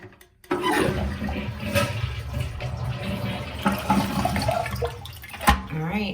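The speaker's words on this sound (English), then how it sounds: "Let's flush this and see what happens." Toilet flushing after a citric acid deep clean: a loud, close rush of swirling water that starts abruptly and roars steadily for several seconds, ending with a brief gurgle.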